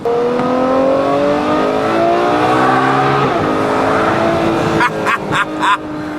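A Ferrari F12 engine on stock exhaust drones steadily with rising and falling tones, then sharp revs blip several times near the end, loud and close.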